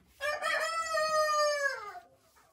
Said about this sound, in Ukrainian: Це, напевно, квочки.